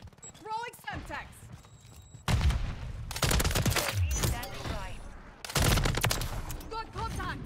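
Bursts of automatic gunfire from a RAAL light machine gun in Call of Duty: Modern Warfare 3 multiplayer come in several loud sustained volleys, broken by quieter gaps with game effects and someone talking.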